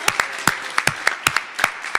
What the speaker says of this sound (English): we have to applaud Jaleesa for that standing ovation that she